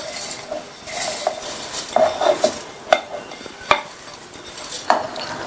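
Roasted aval (flattened rice) is poured into a dry mixie jar, giving close, scattered clinks, taps and light rattles against the container with quiet gaps between them and no speech.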